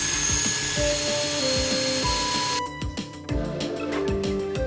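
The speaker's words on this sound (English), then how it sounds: "Drill for the top bracket and pop in a plug." A power drill whines with pulsing mechanical rhythm, then bites into a wall with harsher grinding bursts, close and loud.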